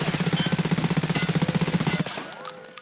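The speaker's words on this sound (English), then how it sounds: "Now we go to full auto, and this gun absolutely does not move." An MP7 in Tarkov fires one sustained full-auto burst of about two seconds, loud and close, with rapid evenly spaced shots before it stops and a short mechanical tail follows.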